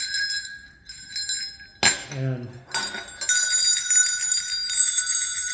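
Handmade metal jingle bells, shaped from blanks with a wedge tool, ring with bright overlapping jingles that swell loudly and sustain, broken briefly by a short spoken word.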